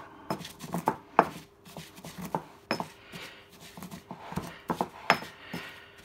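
Marinated rabbit pieces are tossed and stirred with Espelette pepper in a bowl, giving irregular close clicks, wet slaps and light clatter in uneven bursts, fairly quiet overall.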